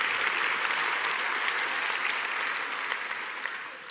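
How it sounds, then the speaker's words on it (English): Sustained applause from a large crowd, dense and even throughout, fading slightly toward the end. "You can applaud for that."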